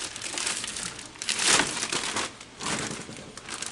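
Plastic shrink bag crinkles loudly and close up as it is pulled over a butchered Cornish Cross chicken carcass, with a burst of rustling peaking midway, then more crackling.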